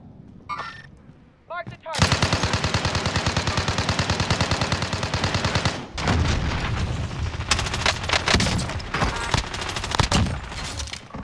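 Rapid automatic gunfire from a multiplayer shooter video game, a long sustained burst of evenly spaced shots followed by scattered overlapping shots and bursts, loud and close.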